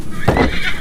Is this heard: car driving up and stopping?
no